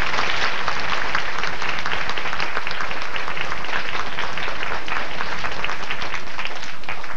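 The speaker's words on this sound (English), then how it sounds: "Let's give them another round of applause." Steady, dense applause from a crowd at a student government inauguration, many hands clapping loudly and continuously throughout.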